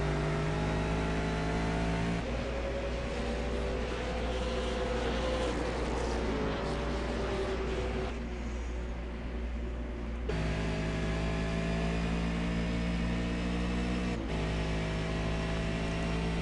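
V8 Supercars race around Road America, with a continuous loud engine drone that shifts in pitch as cars rev and change gear, heard close and sustained through the whole stretch.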